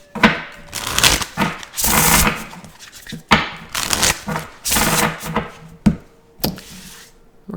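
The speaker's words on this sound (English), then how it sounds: "let's go ahead and get some tarot cards" Tarot cards being shuffled up close in repeated loud riffling bursts with short pauses between them, and no talking.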